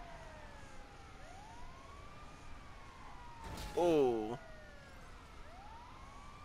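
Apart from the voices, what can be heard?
ambulance siren in video game Grand Theft Auto V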